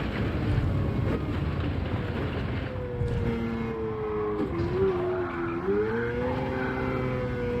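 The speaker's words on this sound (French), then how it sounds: "Donc elle patine beaucoup, elle a le cul qui est lourd." A race car in the Gran Turismo 7 video game, its wheels slipping under heavy braking: a steady engine roar carries a rising and falling tyre squeal through the second half, loud and continuous.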